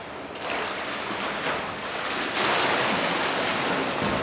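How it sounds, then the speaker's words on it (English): Water rushes down the downstream slide of a sturgeon fish lift, a continuous loud broadband gush that swells slightly midway and keeps flowing steadily with no voices. "we're gonna shoot him down the downstream water slide"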